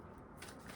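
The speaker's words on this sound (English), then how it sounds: "continue shuffling." Tarot cards are shuffled by hand in a brief, close, papery riffle and rustle that lasts under a second.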